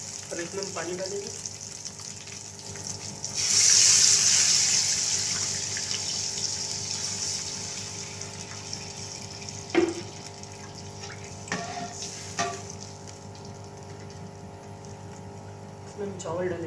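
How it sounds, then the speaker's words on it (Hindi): Water rushes and splashes into a pot of sizzling fried spices for fish curry for a couple of seconds, then the gentle bubbling continues with occasional clinks. "और इसमें हम पानी डालेंगे।"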